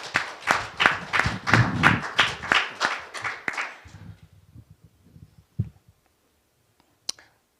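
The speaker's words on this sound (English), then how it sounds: "applause." A small audience at a discussion event with a county district attorney claps for the guest, a brief burst of individual handclaps lasting about four seconds before fading into a few scattered claps and quiet.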